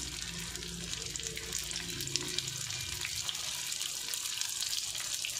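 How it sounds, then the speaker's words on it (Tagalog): Century tuna lumpia fry in hot oil, giving a bright continuous sizzle and crackle close by, steady from start to end, with a few faint low thuds underneath. "Ngayon, piprituhin na natin sa mantika na mainit."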